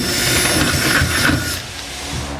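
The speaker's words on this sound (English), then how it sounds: "Now that my rail is in place, I'm going to drill my center hole." A power drill bores a center hole through a steel truck bed rail on a 2015 Ford F-250 Super Duty, a steady loud grinding whir that eases off near the end, with no talking.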